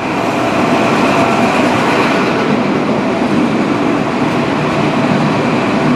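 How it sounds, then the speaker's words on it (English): An East Midlands Trains HST high speed train roars past at Loughborough, a loud, steady broadband rush of engine and wheels that holds close and constant for the whole stretch, with no talking. "that's the first East Midlands Trains HST for KTV"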